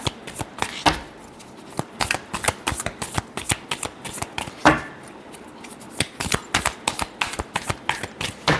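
Tarot cards being shuffled by hand, a rapid run of crisp riffling snaps and slaps that repeat close up for several seconds with no talking.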